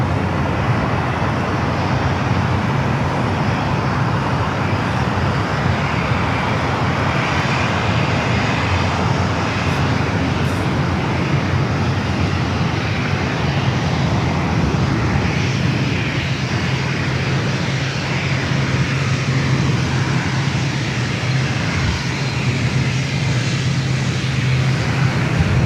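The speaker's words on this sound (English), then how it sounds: "equipment issues with its ATR is making the props louder than they should be" An ATR turboprop airliner at Los Angeles airport roars with unusually loud propellers from an equipment issue, producing a sustained, heavy broadband drone that holds steady throughout with a low propeller hum emerging later.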